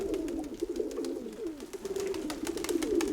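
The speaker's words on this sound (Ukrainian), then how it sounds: "Це 47 голубок, це якраз із запасних." Pigeons cooing in a racing-pigeon loft, overlapping low rolling coos that continue throughout, close and moderately loud, with faint wing flutters and scratching in the background.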